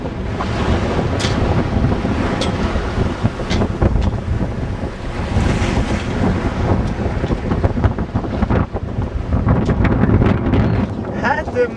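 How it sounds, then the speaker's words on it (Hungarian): Strong, gusting wind roars continuously over a sailboat at sea, buffeting the microphone with loud rushing noise, with waves and boat sounds underneath. "Van, amikor még ennél is erősebb a szél."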